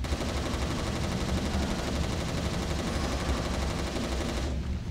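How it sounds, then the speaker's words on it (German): Continuous automatic gunfire in the shooter game Resistance: Retribution, a loud dense barrage that holds steady and cuts off abruptly at the very end. "Du verballerst deine ganze Munition"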